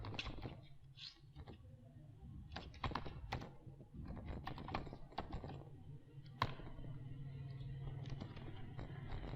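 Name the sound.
typing text on a computer keyboard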